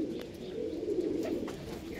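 Pink-beaked Andhra pigeons with yellow eyes coo in a low, rolling, continuous murmur close by, steady and moderately loud over the brief stretch.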